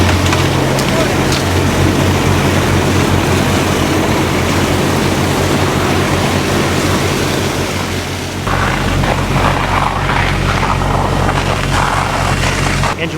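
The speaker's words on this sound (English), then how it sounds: "Benny, give me 30 seconds of deck gun on that fire." A fire engine's deck gun sprays a heavy stream of water onto an exterior structure fire during rural training, making a loud, steady rushing roar that continues without a break.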